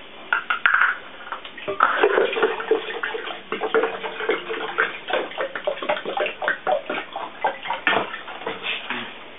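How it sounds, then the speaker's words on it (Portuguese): A liter of water poured for watermelon, kale and lime juice, a steady close splashing and filling sound that runs for several seconds with uneven gurgling pulses near the end. "pegar um litro d'água."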